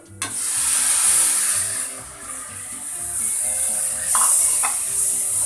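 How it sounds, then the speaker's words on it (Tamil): Masala spices sauté in a hot pan for tomato kurma, crackling in a loud, continuous sizzle with scraping stirs and a couple of brief metallic clinks near the end. "மசாலாக்களோட பச்சை வாசனை போகிறது வரையும் நல்லா வதக்கி விடுங்க"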